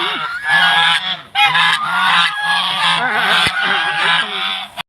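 Several geese honk loudly and repeatedly, close by, in overlapping nasal calls with only brief pauses.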